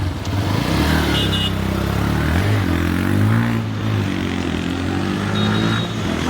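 A TVS motorcycle on a test ride runs with a loud, close engine drone, its pitch rising and shifting as it revs and pulls away.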